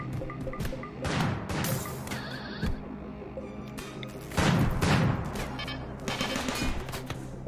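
Turrets firing in RimWorld against a zombie swarm: dense rapid bursts of gunfire with sharp cracks and crashing impacts, rising and falling in waves, loud and close with no talking.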